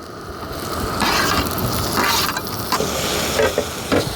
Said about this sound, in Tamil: நல்லா கிண்டி விட்டுருவோம் தக்காளி நல்லா வதங்கட்டும்